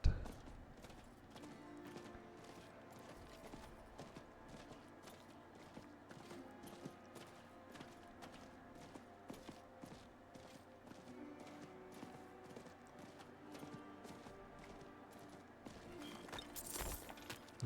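Horse hoofbeats while riding in Diablo IV, a regular clip-clop rhythm running throughout, moderately quiet beneath game music, with a sharper burst near the end.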